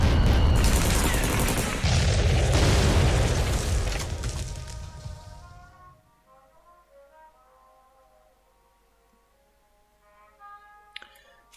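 Loud booming artillery fire from the KARDS video game hits in a dense rumbling burst over the first six seconds, then fades into quieter tonal game music and effects.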